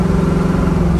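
1971 Pontiac Firebird engine droning steadily while cruising on an expressway, a loud, continuous low rumble with a strong even hum and no pauses.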